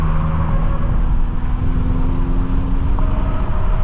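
A BMW M6 engine drones steadily while driving through tunnels and onto a highway, a continuous close-up hum with slight shifts in pitch and no voices.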